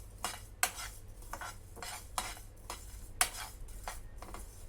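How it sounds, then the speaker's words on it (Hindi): Black mustard seeds and whole spices are dry-roasted in a pan, with repeated scraping and stirring clinks of a spoon against metal at an irregular pace, close and moderately loud, with no talk. "इसे भी कुछ क्षण बाकी सामग्री के साथ भून लेते हैं।"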